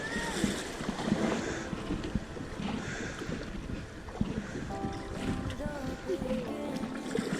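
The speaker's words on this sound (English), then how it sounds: "Here's some more rapids." Kayakers run river rapids on the Ardèche in France, with rushing, churning water and paddle splashes heard close up, wind buffeting the microphone and voices calling out over the steady roar.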